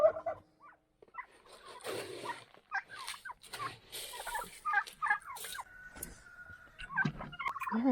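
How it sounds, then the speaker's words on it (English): Turkeys gobble in short repeated bursts among other farmyard fowl, including chickens, with scattered bird calls and movement noise close by and no talking. "let me go ahead and feed these chickens and turkeys"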